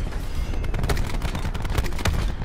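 Dense, loud gunfire fills a Call of Duty Nuketown Domination match, a rapid string of sharp shots and bursts crackling without pause, with no talk heard.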